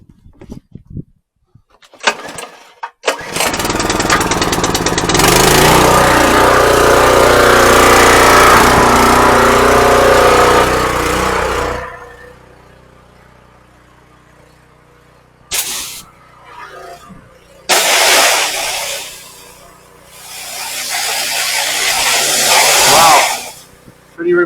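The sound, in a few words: engine started with choke and running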